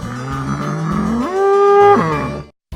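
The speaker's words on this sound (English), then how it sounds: "Bull." A bull lets out a single loud, drawn-out moo lasting about two and a half seconds, its pitch rising in the middle before it stops abruptly. The sound is close to the listener and there is no talking.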